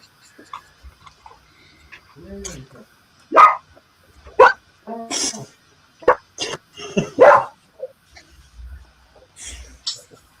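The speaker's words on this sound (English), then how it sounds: "Barking at his shadow." A dog barks in several sharp bursts, some rising to yips, with short gaps between; a person speaks briefly nearby.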